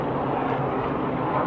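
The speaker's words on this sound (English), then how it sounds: "Got some airplanes up in the sky." Airplanes passing overhead above Battery Park City in New York, a loud, steady engine roar that fills the whole moment without pause, with no voices over it.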